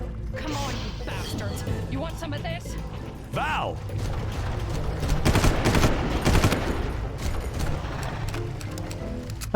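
Gunfire in the video game Far Cry comes as rapid bursts and mechanical clatter throughout, with a voice talking over it at times.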